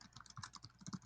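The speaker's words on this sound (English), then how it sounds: "Yeah, I'm typing." Rapid, uneven keystrokes on a computer keyboard, close and fairly soft, clicking alone in a quiet room.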